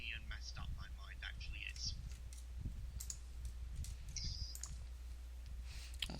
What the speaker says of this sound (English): You're currently typing something in. I can hear your keyboard.